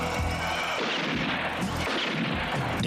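Gunfire in a Hindi-dubbed zombie action film, several heavy booming shots at irregular intervals over a dense, noisy backdrop, loud and close.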